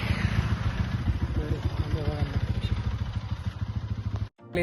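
A motorcycle engine runs steadily up close with a rough, pulsing low rumble, ending in a brief cutout.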